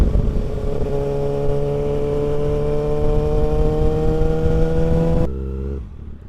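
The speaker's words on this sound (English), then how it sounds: "here's me on my Jap sports bike, just whizzing around like an idiot" A Japanese sports motorbike races past at high speed on a circuit, a loud sustained high-revving engine whine that holds steady, then cuts away abruptly to a lower fading drone.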